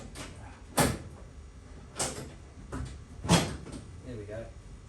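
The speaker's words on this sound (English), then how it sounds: "Get the door open." Door of a Valiant VH Charger opening and shutting, a few sharp thuds and clunks spaced across several seconds, close by in a quiet garage-like setting with faint background noise.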